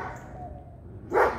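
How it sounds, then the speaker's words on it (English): A single dog bark rings out near the end, at moderate distance over a quiet outdoor background. "There is a dog next door."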